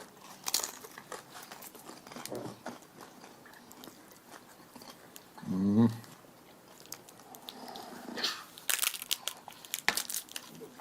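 Crunchy chewing close to the mic, a brief burst of crisp crunching with someone talking quietly before and after.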